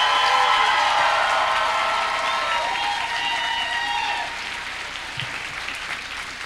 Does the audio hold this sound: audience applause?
yes